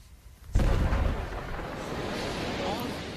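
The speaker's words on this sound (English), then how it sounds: "explosion from 2 sticks" Two sticks of dynamite detonate in a sudden deep boom that hits after a quiet moment, then rolls into a long, dense rumble that slowly fades, loud and broad.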